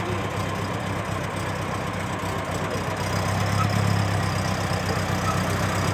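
A 1919 Templar roadster engine running rich idles steadily at close range, a continuous low mechanical rumble that swells slightly louder partway through, with no voices over it.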